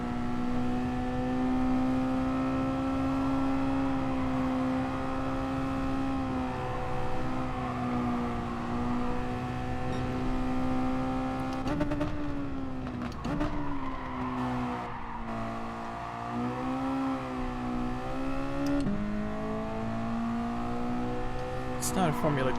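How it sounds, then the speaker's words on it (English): A racing car engine in a racing video game, third gear, drones with steady harmonics that dip and shift in pitch as it downshifts, with someone talking over the continuous engine note. "Downshifting into 3rd."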